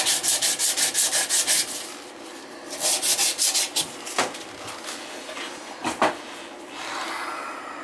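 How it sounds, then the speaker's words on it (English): Copper pipe being reamed during a Moen tub spout replacement makes rapid, close rasping scrapes in rhythmic bursts, first a quick run of strokes, then another cluster, followed by a few isolated scrapes. "I gotta ream the pipe."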